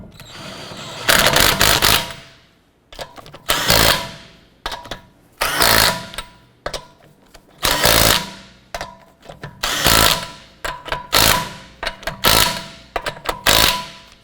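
Lug nuts snugged down on a 2008-2012 Honda Accord wheel with a power tool, a series of loud, close, buzzing mechanical bursts, each a second or so long, repeated about nine times with short gaps.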